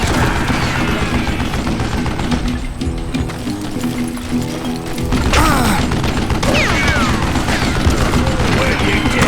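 Rapid gunfire from an old man's gun in the Call of Juarez Gunslinger video game, a dense, loud fusillade of overlapping shots and crashes that runs throughout, with game music or voices faintly underneath.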